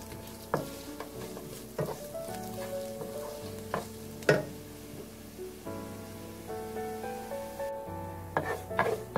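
Curry leaves and red chillies fry in hot oil in a pan, a continuous close sizzle broken by repeated sharp clatters as the pan is stirred, with no talking.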